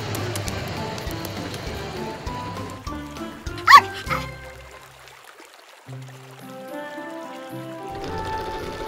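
Cartoon puppy barking and yipping a few times, with a sharp loud bark near the middle and a soft whimper after, over light music and trickling water.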